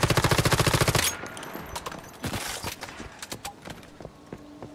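Automatic weapon fire in the survival shooter game Once Human: a rapid, loud burst of evenly spaced shots, then scattered single shots and impacts trailing off over game ambience.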